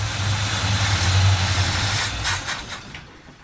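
A 1957 Chevy Bel Air engine runs with a loud, close, steady low rumble and broadband roar, easing slightly toward the end.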